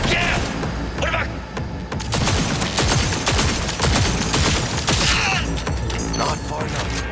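Gunfire from the video game Cyberpunk 2077 rattles in dense, loud bursts and sustained volleys with booming impacts, over a continuous game soundscape with voices calling out.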